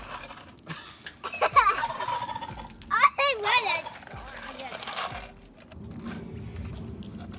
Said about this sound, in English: Love you, turkeys.